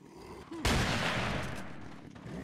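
A single loud gunshot in Resident Evil 4 cracks out abruptly and rings into a long decaying echo, preceded by quiet ambience.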